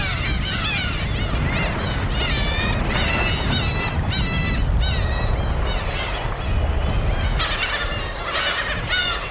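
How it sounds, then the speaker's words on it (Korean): A dense colony of black-tailed gulls calling nonstop on an uninhabited island breeding ground, many overlapping mewing, cat-like cries over a constant roar of wind or surf. "고양이 울음소리와 비슷한 소리를 낸다고 해서 괭이 갈매기라 불리는 녀석들"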